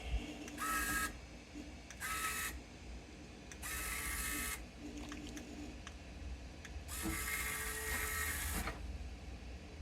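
A small electric motor tilts the bed of a 1/14 scale Tamiya Grand Hauler RC truck, whirring close by in several short bursts with quiet pauses between them.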